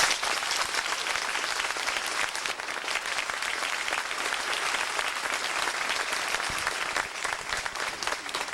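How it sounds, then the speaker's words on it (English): At the 1991 Yale commencement, an audience gives a sustained round of applause, a thick, steady roar of many hands clapping that carries on evenly for over eight seconds. "We give everybody a round of applause."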